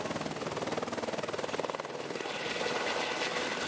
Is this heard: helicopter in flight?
yes